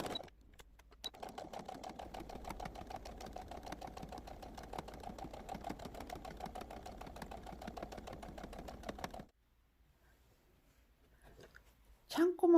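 A sewing machine topstitches around the edge of a reversible bucket hat, running at a rapid, even rhythm for about nine seconds before stopping; a short rustle follows.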